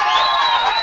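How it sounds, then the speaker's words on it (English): A studio crowd cheers loudly for a Computer America Top Tech Award winner, a brief, dense burst of whoops and hollering that stays steady throughout. "See, the crowd goes wild."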